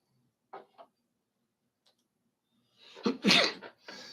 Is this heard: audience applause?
no